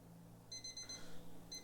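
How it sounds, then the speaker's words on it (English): An alarm clock beeps in quick, high, piercing pulses, two separate bursts of rapid beeping at moderate loudness over a faint background hum, with no voices. "Your alarm's been ringing for the past 20 minutes."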